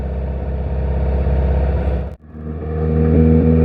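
A car with EFI engine tuning hums loudly inside while driving, a steady mid-pitched drone that briefly drops out as the gear shifts, then climbs again as revs build.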